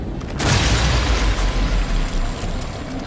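A heavy explosion bursts as a heart is destroyed in Redfall, one loud booming blast with a deep rumbling low end that holds and slowly decays across the clip.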